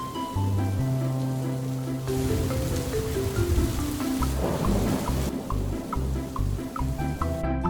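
Rain and rumbling thunder in a cartoon storm scene, a steady wash of falling rain with low booming rolls, mixed under music with a bright melodic line throughout.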